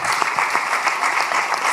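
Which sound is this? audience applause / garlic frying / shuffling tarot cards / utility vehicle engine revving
audience applause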